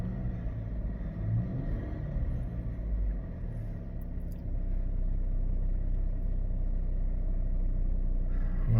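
A 2014 Chevy Equinox 2.4L engine, fresh from a cam phaser replacement, idles steadily with a low rumble, then gets some throttle and rises to a higher, sustained drone partway through, with no voices.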